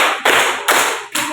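A group claps in unison in a classroom-style clap pattern, giving three sharp, loud, evenly spaced bursts of clapping about half a second apart.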